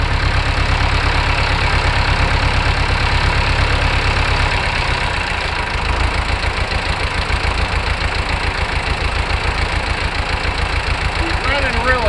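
A Long 900 tractor engine runs steadily at idle, a continuous low diesel-like chug with a faint even knock, close by and loud, with no voices over it.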